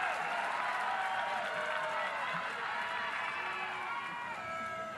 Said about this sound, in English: the crowd is really amped up as well with all the extracurricular activities going on